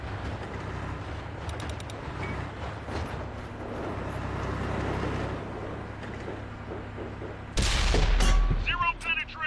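Tank gun firing in a video game, a rumbling battle bed with scattered gunfire, then one sudden loud booming shot near the end followed by a ringing tail, with someone talking over parts of it.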